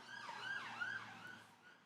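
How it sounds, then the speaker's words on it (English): An emergency vehicle siren wails outside, a distant rising and falling tone heard faintly through the walls, with no talk over it. "There can't be a stream without a siren."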